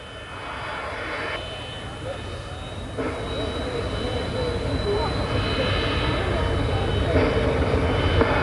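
Aircraft engines at an airfield as a DC-3 on floats prepares to take off, with an MD-80 waiting on the taxiway: a loud, steady engine roar that slowly builds and is joined at times by a voice.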